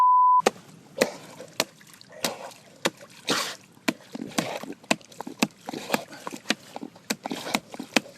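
Ice is smashed in water in repeated sharp cracking blows with splashing and trickling between them, while people talk quietly in the background.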